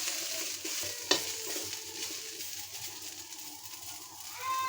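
Chili and onion frying lightly in a pan, a faint close sizzle under soft stirring scrapes, with one sharp clack near the start.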